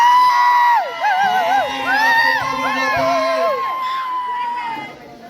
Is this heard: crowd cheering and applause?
yes